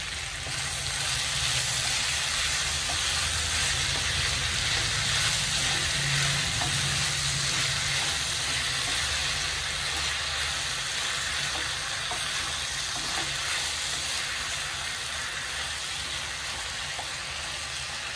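Ivy gourd fried with tomato and salt sizzles steadily in a pan, a loud, continuous close crackle with occasional stirring scrapes and no one talking.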